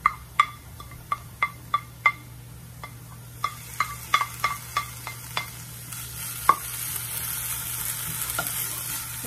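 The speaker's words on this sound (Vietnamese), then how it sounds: "Sẽ xào cái phần này cho nó chín." Carrots and mushrooms being stir-fried in a pan, a spatula clacking in a quick irregular run of sharp taps against the metal over a steady low sizzle and hum, the strikes thinning out toward the end.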